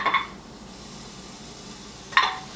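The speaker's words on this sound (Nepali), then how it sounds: "ल अब यो खुट्टीलाई कुकरमा राखौँ" Goat legs going into a pressure cooker give two short metallic clanks, one at the start and one near the end, with a quiet kitchen stillness between them.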